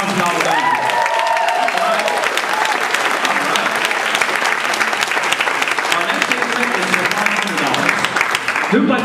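Loud, sustained applause from an audience at a school fundraising appeal for an auditorium. Dense clapping runs steadily throughout, with a few voices and calls mixed into the crowd noise.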